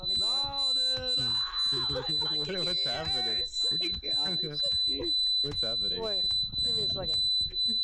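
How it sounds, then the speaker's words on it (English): A smoke alarm sounds over a player's voice-chat microphone during an online game of Crab Game: a steady high-pitched electronic tone running continuously under loud, overlapping talking voices. "I don't want to hear the fucking smoke alarm."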